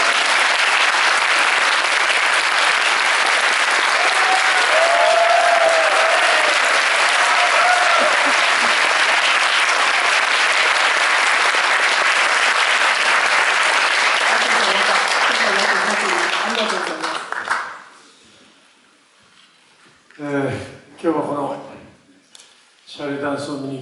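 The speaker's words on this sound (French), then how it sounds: "je vous demande s'il vous plaît de l'applaudir" A theater audience gives a long, loud ovation for actor Koji Yakusho at a Shall We Dance screening, dense clapping filling the room for about seventeen seconds before fading into quieter moments with scattered claps.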